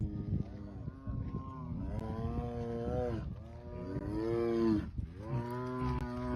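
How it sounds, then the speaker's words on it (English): A big cat lets out long, low, drawn-out moaning calls, several in a row, each sounding much like a cow's moo. "Are you mooing because you want to be one with the cows?"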